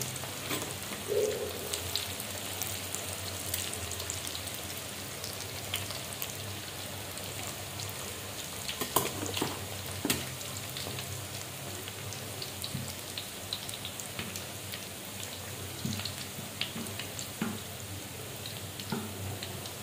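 Tempeh frying in hot oil in a home kitchen, a soft, continuous crackle and sizzle with scattered pops, fairly quiet and steady throughout.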